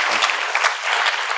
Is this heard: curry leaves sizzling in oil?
no